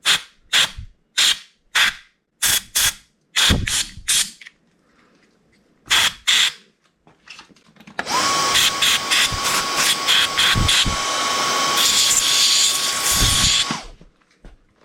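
A vacuum pulls dust out of a Baja motorcycle. First come a series of sharp bursts of blowing or suction, each with a short pause after it. Then a loud whooshing hiss runs steadily for several seconds near the listener, with a high whine in it.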